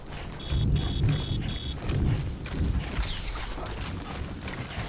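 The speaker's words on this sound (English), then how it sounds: "Oh, is it just timefall?" Timefall rain pours steadily in Death Stranding, a dense wash of falling water with low rumbling underneath and a few short, high electronic beeps sounding over it.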